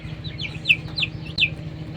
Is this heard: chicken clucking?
yes